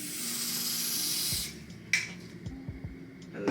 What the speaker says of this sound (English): we're gonna just go ahead and spray on the lace